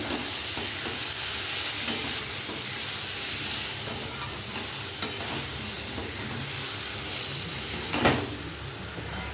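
Kashmiri chilli powder and meat masala are stirred into mutton curry frying in a village kitchen pot, with a loud continuous sizzle and hiss and a couple of brief scrapes, and no talk.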